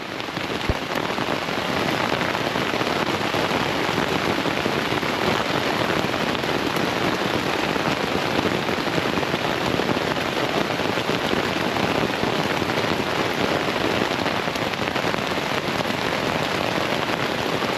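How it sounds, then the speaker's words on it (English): Heavy rain pours steadily on a surface at night on the Appalachian Trail near the Mason-Dixon line, a dense, constant hiss with no pauses, close and loud. "Raining pretty hard."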